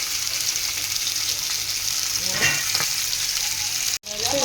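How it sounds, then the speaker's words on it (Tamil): Fish frying in hot oil for a non-vegetarian feast, a loud steady crackling sizzle throughout with a brief scraping of a spatula partway, then a sudden cut near the end. "மீன் வந்து நல்லா வெந்துச்சு, திருப்பி போட்டுக்கலாம்"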